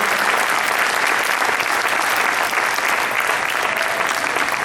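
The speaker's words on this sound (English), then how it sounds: "please give one more round of applause to our brilliant co-panelists" Convention audience gives a sustained round of applause for panelists, a dense, loud, continuous wash of clapping from a large crowd with no talk.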